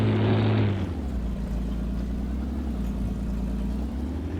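Farmall 460/560 tractor in Farming Simulator 19 gives a steady low throaty engine rumble, idling evenly after a brief louder tonal opening, with no talk.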